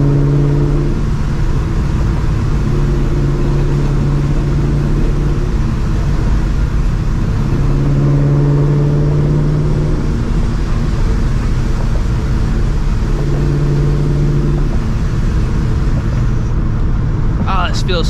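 A supercharged 1999-2004 Mustang GT accelerating hard through its gears, loud continuous engine drone heard from inside the car, with pitch climbing and resetting at shifts, steady road roar underneath.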